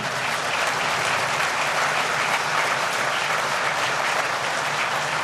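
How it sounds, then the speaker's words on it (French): A conference hall audience at an African development forum applauds loudly and steadily, a dense wash of many hands clapping with no break and no voices over it. "je vous demanderai, mesdames, messieurs, d'applaudir la Tunisie"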